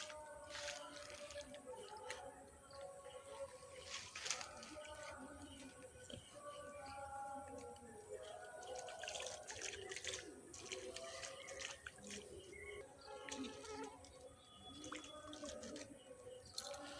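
Water is poured into ground puffed-rice fishing bait beside a pond. The result is a faint wet squishing and dripping, with soft sloshing and small splashes that carry on quietly throughout.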